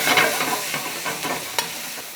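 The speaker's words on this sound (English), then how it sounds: "make sure you keep stirring" Vegetables seasoned with salt and black pepper are stirred in a hot pan for creamed corn, a continuous scraping and shuffling over a soft, steady sizzle.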